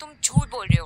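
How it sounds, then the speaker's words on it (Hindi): A dramatic heartbeat sound effect in a Hindi TV drama gives a soft double thump, with a second double thump a moment later, while a voice speaks briefly over it. "मेरे दिल की धड़कन आपको सुनाई दे रही है ना?"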